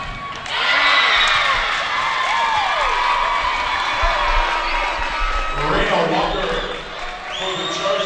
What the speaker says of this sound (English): The crowd's too loud.